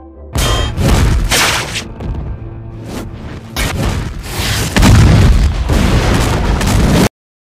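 A gas station blows up in a film scene after molotov cocktails are thrown, loud booming blasts and rumbling bursts rolling on for several seconds before cutting off abruptly.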